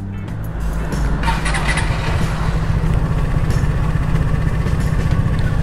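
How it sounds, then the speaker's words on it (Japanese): A Vespa GTS scooter with its stock exhaust starts and settles into a steady, fairly quiet exhaust burble, close by, with a low rhythmic putter throughout. "僕はこの純正のマフラーの音が大好きなんですね"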